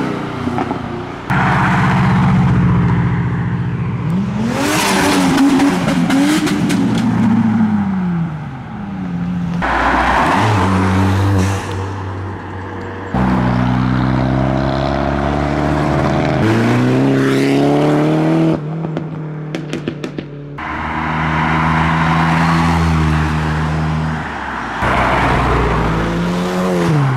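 Cars pulling away from the Castle Combe race circuit after a spring action day, including a 300ZX, rev and pass close by one after another in loud surges, with engine tones climbing and fading in sequence.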